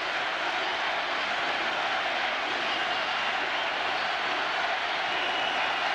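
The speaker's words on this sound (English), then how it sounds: "Listen to this crowd shouting U of A." Big stadium crowd at a 1999 Stanford at Arizona college football game, a steady, dense roar of distant shouting and chanting that fills the whole span without a break.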